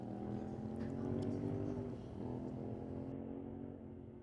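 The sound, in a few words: drag race boat engine coming off the throttle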